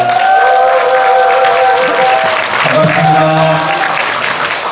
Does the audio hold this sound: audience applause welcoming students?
yes